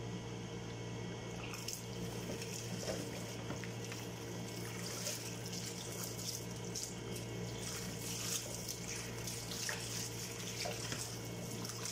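Tap water runs steadily into a sink while baby feeding bottles are washed: a faint, continuous splashing trickle with small clinks and no speech.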